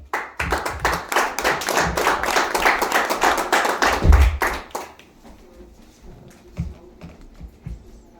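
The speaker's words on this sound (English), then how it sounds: "can I get a warm round of applause for Eddie Lager-Smith?" Audience at a political talk in Milwaukee clapping warmly for a guest speaker, a dense round of applause for about five seconds that then fades to a few scattered claps.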